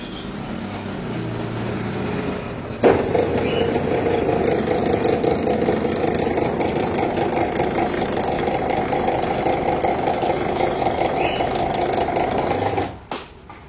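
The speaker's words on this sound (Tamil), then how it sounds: "வண்டியை செல்ஃப் மோட்டரில் டைரெக்டாக ஸ்டார்ட் பண்ணி பார்ப்போம், என்ன ஆகுதுன்னு பார்ப்போம்" A Maruti Swift with a starting problem is cranked directly on its starter motor, giving a steady whirring, chugging drone for about ten seconds, close up, then cutting off abruptly.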